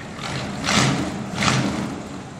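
A car engine idles steadily with a low rumble, swelling twice as if lightly revved, close and alone without talk.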